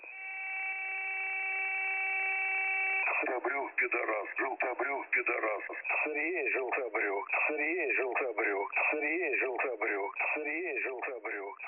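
A pre-recorded Russian shortwave radio transmission opens with a steady multi-tone carrier, then a continuous voice broadcast plays through a narrow, band-limited channel, loud and unbroken to the end.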